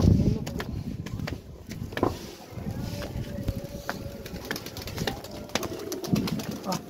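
Several pigeons cooing in a street during hot weather, low repeated coos mixed with scattered clicks and knocks, while people talk nearby.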